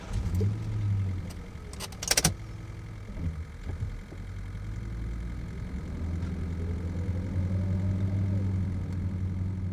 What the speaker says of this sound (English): It's my first spin in the new car. Let's hear her roar.